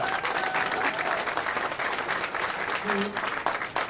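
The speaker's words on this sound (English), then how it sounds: "Give them a round of applause, please." Crowd applause for campaign staff at a Virginia US House special election victory speech, a dense steady roar of many hands clapping that fills the whole stretch at even loudness, with some cheering mixed in.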